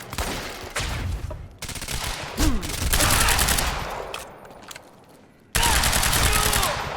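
Rapid automatic gunfire in the shooter game Quantum Break, loud and close, arriving in sustained bursts with brief gaps and a sharp restart near the end.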